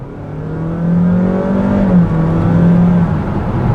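A 2022 Honda HR-V hybrid accelerates from normal cruising speed, its engine rising in a smooth, steady whirring drone that climbs gradually in pitch, heard from inside the cabin with no talking.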